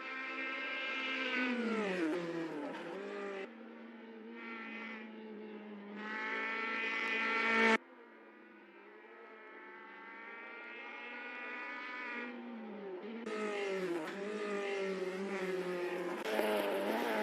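A 510 race car in a virtual racing game drones at high revs with sustained engine tones that shift through gear changes and abrupt cuts, loud and continuous, with no voices.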